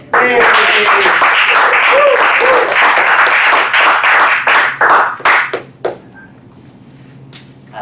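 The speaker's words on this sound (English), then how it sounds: "So I would like to applaud for uh, Andal finishing the competent com communicator" Toastmasters meeting members applaud a speaker who finished a speech project, a loud close round of clapping that holds for about five seconds, then fades quickly into quiet room tone with a voice murmuring under it.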